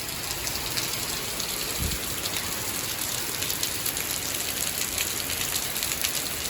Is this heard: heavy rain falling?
yes